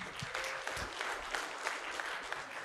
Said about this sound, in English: Please give a warm applause for Andrew Vernon Dixon.